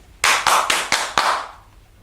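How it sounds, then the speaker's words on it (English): Five sharp hand claps ring out in an even, quick rhythm, close and loud, each with a short fading tail, followed by quiet; no talking. "I'm going to give the trailer 5 out of 6 claps"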